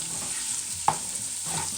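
Softened, previously frozen vegetables stirred into cooked garlic in a pan with the heat off, a faint sizzle and soft scraping, with one sharp clink of the utensil partway through.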